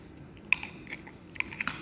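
Ripe, crunchy, sweet dates are bitten and chewed up close, producing a few quiet, sharp crunching clicks scattered over a faint background, without speech.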